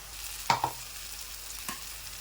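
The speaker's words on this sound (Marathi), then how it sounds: "मसाला पण चांगला फ्राय करून घेऊ आपण तेलामध्ये" Ground masala frying in oil in a pan, a low steady sizzle broken by two sharp spoon clinks close together and a later softer knock, no speech.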